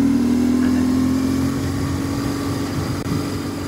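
A BMW R850R roadster motorcycle engine hums steadily with the throttle slightly opened, a loud continuous low drone with a strong tonal pitch, heard up close without talk.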